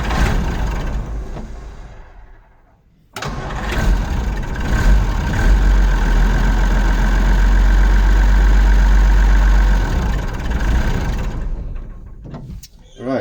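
A Unimog truck engine cranks and catches, then settles into a loud, steady, low rumbling idle close by before it cuts off near the end. A voice speaks briefly under the engine noise.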